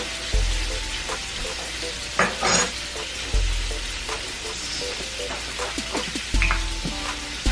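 Butter hits a dry hot pan and sizzles loudly, broken by several scraping stirs and clinks of a utensil against the pan at intervals.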